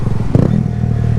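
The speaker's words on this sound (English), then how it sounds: "now that I have my bike, my street legal bike, and I'm almost done making it into a stunt bike" A Kawasaki Z125 street-legal motorcycle being built into a stunt bike runs loud and close, its engine a steady throbbing idle with a brief clattering thump partway through.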